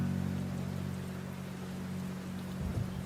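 Steady rain falls at night, a continuous close, even hiss of drops on surfaces with no voices or other sounds.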